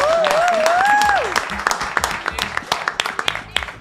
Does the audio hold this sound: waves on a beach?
no